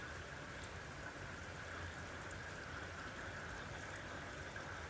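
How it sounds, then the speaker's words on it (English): Rain falls steadily in a wet Australian setting at the arrival of the rainy season, a continuous soft hiss of drops with no break or voices. "But today, we have rain."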